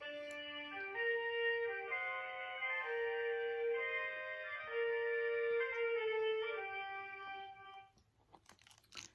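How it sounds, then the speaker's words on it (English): A woodwind ensemble of flutes, clarinets and an oboe plays sustained, overlapping melodic lines together in rehearsal, a mellow blend, steady and fairly loud before trailing off at the end. "So here are some of the wind musicians rehearsing."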